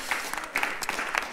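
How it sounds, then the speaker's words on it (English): Light applause from a small audience at an online theme night about people of all species, soft scattered claps over about a second. "Give her an applause."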